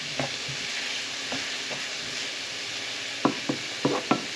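Sliced bell pepper and onion sizzle steadily in a hot pan, a constant crackling hiss broken by a few soft scrapes and taps of stirring, with no talking.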